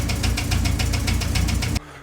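A Citroën GSA engine runs close up with a steady, rapid metallic knocking clatter over its idle drone, then cuts off abruptly, leaving a faint hum.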